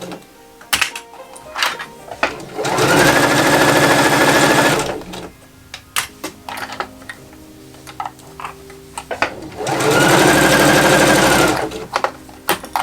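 A domestic sewing machine stitches a woven fabric top in two steady whirring bursts of a couple of seconds each, loud and close, with scattered clicks and handling taps around them.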